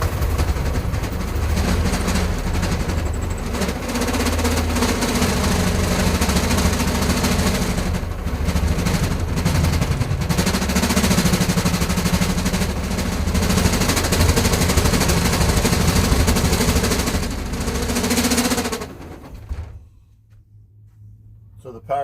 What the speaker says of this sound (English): Can you try straight in and just cut right down through the nails?